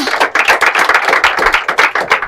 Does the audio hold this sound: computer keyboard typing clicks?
no